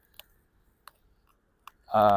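Plastic clicks as a battery connector is pushed into the plug of a radio-controlled model airplane, three short isolated snaps followed by a brief burst of speech.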